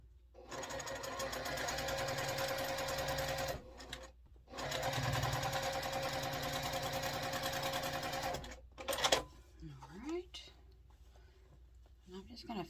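A sewing machine stitches quilt block pieces in two long rapid runs with a brief pause between, then stops; a voice speaks quietly afterward.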